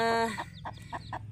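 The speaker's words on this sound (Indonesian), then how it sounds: "Ini lihat ke anak ayam dulu." Baby chicks give a few short, close clucking peeps in a quick series, following a brief higher call at the start, with no talk over them.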